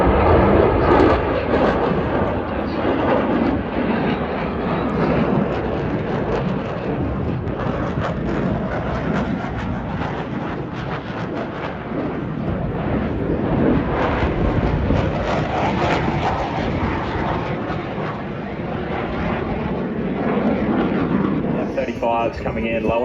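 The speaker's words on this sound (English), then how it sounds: "F-35s coming in low and fast." F-35 fighter jets pass low and fast at an airshow, producing a loud, sustained, rumbling engine roar that swells and holds for over twenty seconds, with a commentator's voice talking over it.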